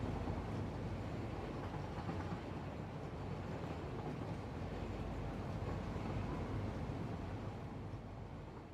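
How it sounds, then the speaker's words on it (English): Trains in the Satisfactory factory-building game run along the rails in a dense, steady rumble with constant rolling noise, loud and unbroken, with no talk over it. "I like just watching the trains go."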